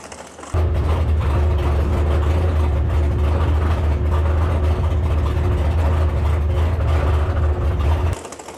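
A 1200-horsepower big-block jet boat roars to life on a lake, its deep engine rumble suddenly loud and close, holding a heavy steady drone for several seconds before cutting back near the end.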